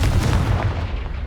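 A loud, booming blast from the Confringo explosion spell in Hogwarts Legacy, a dense burst of impact that fills the short moment without letting up.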